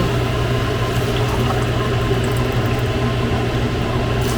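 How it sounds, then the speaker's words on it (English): A steady, continuous stream of water pouring into a soup pot, five cups, a full rushing sound that holds evenly throughout. "So we'll go ahead and add the water now."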